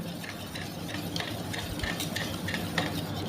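Yogurt and a bowl of milk whisked together for fasting curd rice, giving steady, close, rhythmic swishing strokes with light clinks against the bowl and no voices.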